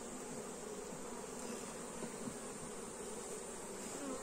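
Honey bees buzz steadily and densely at an open hive frame holding brood, a close, continuous drone with no talk over it.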